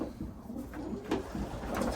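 A young racing pigeon, handled during a loft inspection of this year's youngsters, gives soft, low, murmuring coos close by, a couple of rolling phrases over faint rustling and background noise, with no voices.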